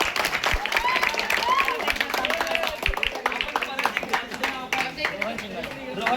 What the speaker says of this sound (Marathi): दोघांसाठी जोरदार टाळ्या होत्या सगळ्यांनी।